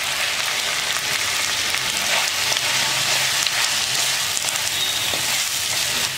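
Boiled mutton frying with salt, chilli and masala in a pan, a loud, steady close sizzle with light stirring throughout.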